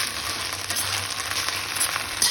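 Moringa leaves sizzle in a pan of hot oil left over from frying onion, garlic and chili, a steady close crackle with faint stirring scrapes and one brief louder clatter at the end.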